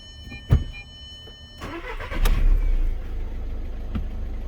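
Audi A3 engine cranks and catches after a short click, then settles into a steady idle hum, close and alone with no voices.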